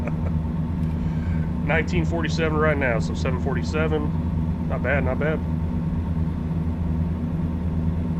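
A heavy truck engine in American Truck Simulator drones steadily at a low pitch for the whole stretch, close and constant, while someone talks over it.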